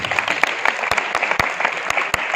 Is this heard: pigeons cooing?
no